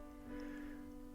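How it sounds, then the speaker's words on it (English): Light rain patters steadily outside in London, a soft, faint, even wash of drops with a low hum underneath and no talking. "It's just started to rain here in London."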